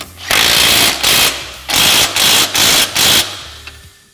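A power tool tightens shock mounting bolts on a Can-Am Commander during an A-arm install, running in five loud, close bursts of rapid hammering separated by short pauses.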